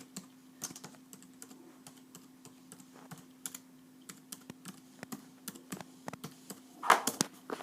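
Keys tapped on a 2008 unibody Apple MacBook keyboard, a quiet, irregular run of light clicks entering a password, close and alone in a still room.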